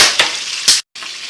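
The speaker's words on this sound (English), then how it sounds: "Butter in. Right there. Get that butter around that steak." Sirloin steak frying in melted butter in a pan, giving a bright, steady sizzle with two louder surges, then a brief total dropout before the hiss resumes.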